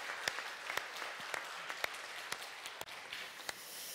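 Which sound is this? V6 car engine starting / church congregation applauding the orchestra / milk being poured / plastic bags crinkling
church congregation applauding the orchestra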